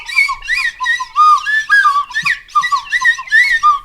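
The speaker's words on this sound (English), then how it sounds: "I thought you were going to try and do the Mortal Kombat theme with the whistle" A handheld whistle carries the Mortal Kombat theme as a run of short, loud, pitched blasts in a quick melodic rhythm, close to the mic and with no talking over it.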